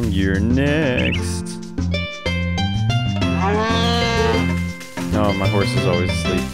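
Cows moo in Harvest Moon: A Wonderful Life, drawn-out rising and falling calls repeated a few times over steady, loud game music.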